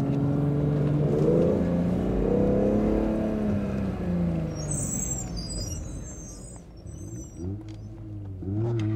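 A BMW Z4M Coupe with the S54 M3 engine revs at a track day, its note rising and falling in smooth sweeps, fairly distant and moderate, before a brief lull and another rev.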